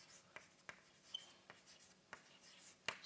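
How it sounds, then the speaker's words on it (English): Chalk or marker strokes on a board during a mathematics lecture: quiet, scattered taps and short scratches in an irregular rhythm, heard alone. "So let me simply write"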